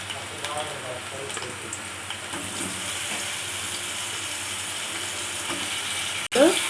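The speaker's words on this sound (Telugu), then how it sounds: "కొంచెం ఫ్రై చేసుకున్నామండి ఆయిల్లో" Drumstick pieces fry in about two teaspoons of oil in a pan on a stove, a steady close sizzle with light stirring clatter and a sharp knock near the end.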